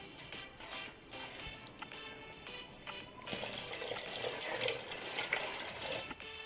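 Water is poured into a pan of Andhra-style fish curry (chepala pulusu), a close, steady splashing stream that grows fuller and louder toward the end, with no talking.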